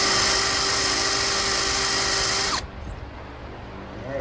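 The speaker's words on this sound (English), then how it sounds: "That's going to be the hardest part, getting this hole drilled" A power drill boring a hole for a Craftsman sleeve hitch, a loud steady whine held close for a few seconds, then cutting off abruptly into quiet.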